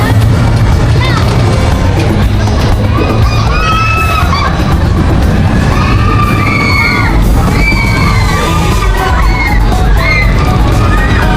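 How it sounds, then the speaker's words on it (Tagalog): Many riders screaming and yelling on the Twin Spin ride at Enchanted Kingdom amusement park, loud, overlapping shrieks rising and falling over steady crowd noise and nearby chatter. "Nakakatakot yung mga sigawan nila dito"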